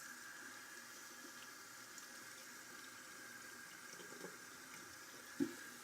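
A tap runs to wet a synthetic shaving brush, a faint, steady hiss of flowing water with a soft splash or knock near the end.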